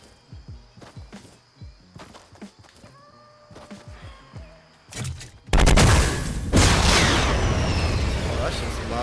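In the Fortnite battle royale game, a rocket launcher fires and then explodes in a loud, dense blast, coming after a run of smaller rhythmic hits, with someone talking throughout.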